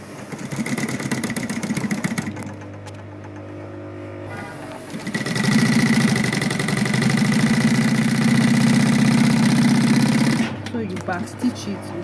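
A sewing machine back stitching a quilted zipper purse, its needle running in steady rapid bursts up close, pausing briefly around the middle before a longer continuous run.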